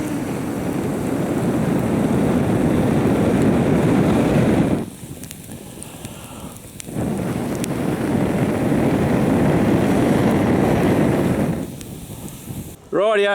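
Someone blows hard onto campfire coals to revive a cold-weather fire, giving two long, loud breathy rushes separated by a short quiet pause, with a brief third burst starting at the end.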